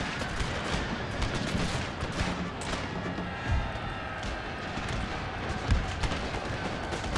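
A battle in the video game Total War, with troops firing guns: a dense, steady din of distant massed gunfire and rumbling battle noise, broken by a few heavier thuds.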